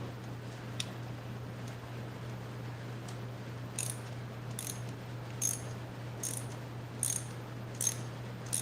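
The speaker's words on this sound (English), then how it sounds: "Let me back this bolt off a little." Ratchet wrench clicking in short bursts while a bolt is backed off on a disassembled transmission, faint sharp ticks over a steady low hum in a quiet shop.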